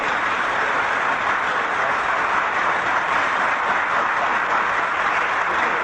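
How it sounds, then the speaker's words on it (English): Audience applause, a dense sustained wash of clapping from a sizeable crowd, steady and loud throughout with no pauses or voices over it. "I'm sure that they've had a nice emotional bath with that applause"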